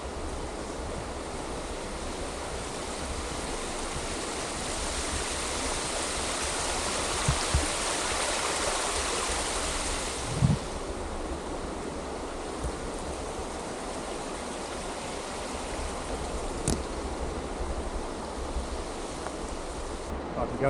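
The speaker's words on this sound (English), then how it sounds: "it just crosses a little stream coming in down off the mountain," A small mountain stream rushes beneath a little bridge in the Cherokee National Forest of Tennessee, giving a steady, close, noisy wash of flowing water with a few faint knocks and footsteps.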